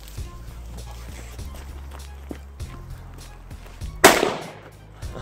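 On New Year's Day, a leftover firework lit outdoors goes off with a single sharp bang near the end, after a stretch of quiet footsteps and rustling.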